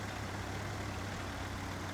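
A Kenworth truck engine in the game SnowRunner drones at a steady low idle, faint and unchanging throughout, with no voices.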